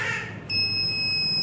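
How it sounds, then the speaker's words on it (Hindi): An Arduino smoke detector with an MQ2 gas sensor sounds its buzzer after smoke from a lit match. A piercing, steady electronic tone starts abruptly and holds, close and alone. "जो बज़र है इसकी आवाज़ भी आपको सुनाई दे रही होगी।"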